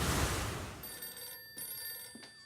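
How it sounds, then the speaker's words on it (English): An office telephone rings with a steady electronic trill that starts partway in and continues through the rest of the clip, at moderate volume with no talk over it. "Excuse me, I better get that phone."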